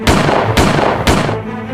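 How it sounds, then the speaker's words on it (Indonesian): Three sharp, loud gunshots ring out in quick succession at night, evenly spaced about half a second apart, each a hard broadband crack with a short tail and no voices. "Dalam hitungan detik, 3 tembakan tajam mengoyak kesunyian malam."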